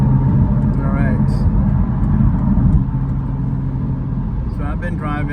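A Porsche Spyder RS cruises on a highway in the rain, its engine and road noise forming a steady loud rumble with tyre hiss, while a person talks over it.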